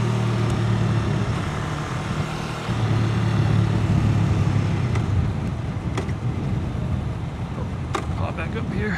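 A motorcycle cruising on a highway in third gear at about 50 miles per hour, a steady, loud roar of engine and wind rumble that continues without a break.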